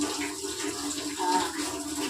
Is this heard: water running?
yes